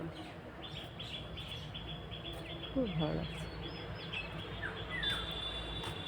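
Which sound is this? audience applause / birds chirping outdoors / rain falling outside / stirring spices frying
birds chirping outdoors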